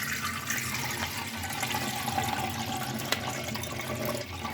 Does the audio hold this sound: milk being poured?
yes